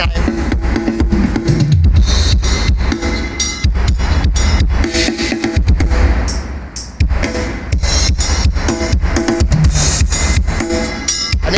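Dense, continuous music dominated by deep, booming bass from an 18-inch subwoofer in a sixth-order plywood enclosure, with rhythmic low thumps, heard from some distance with a muffled, boomy character and no talking.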